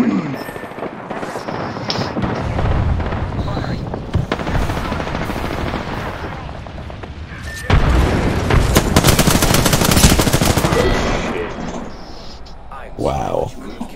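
A video game artillery barrage pounds away in dense, rapid volleys of booming blasts and crackling fire, swelling louder midway and rolling on almost without pause.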